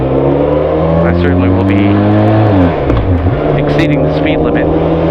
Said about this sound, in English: you can hear this motorcycle